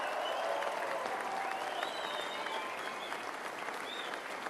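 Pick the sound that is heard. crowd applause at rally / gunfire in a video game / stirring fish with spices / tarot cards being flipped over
crowd applause at rally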